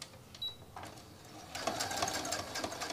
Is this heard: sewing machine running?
yes